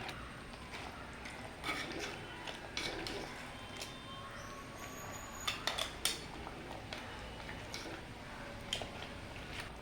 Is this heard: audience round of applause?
no